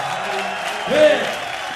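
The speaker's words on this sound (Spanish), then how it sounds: "Un aplauso para Risto" Audience applause at a live concert, a steady broadband patter of clapping with a brief swell of cheering near the middle, mixed with crowd noise.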